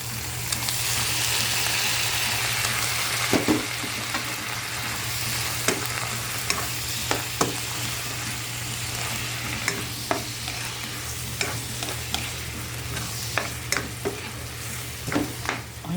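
Shrimp frying in a pan with soy sauce and lemon sizzle continuously while a utensil stirs them, scraping and clinking against the pan at irregular intervals, close up with no voices.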